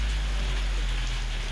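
Heavy rain pouring steadily in Pandharpur, a dense, even hiss of drops hitting surfaces that holds unchanged throughout without any voices.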